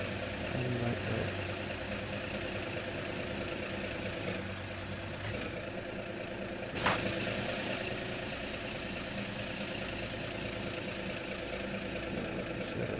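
A truck engine idles in a bridge-building video game, a steady low rumble running quietly throughout, with a single sharp click partway through and no speech.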